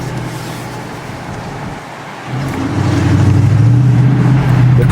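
A 2020 Dodge Challenger R/T muscle car is being driven. Its low engine drone steps up partway through into a louder, steadier rumble, and no one talks.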